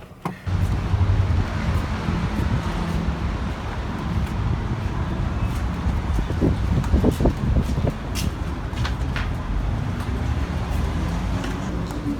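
Car cabin noise with the air conditioning running on a hot day in Arizona, a steady broadband rush and low rumble throughout, with a few faint clicks and taps.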